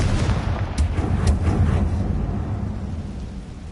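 Confringo explosive spell cast in the video game Hogwarts Legacy: a few sharp booming blasts early on, then a loud, rolling rumble that slowly fades without voices.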